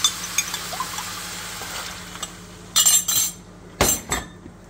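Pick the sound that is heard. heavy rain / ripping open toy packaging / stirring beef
stirring beef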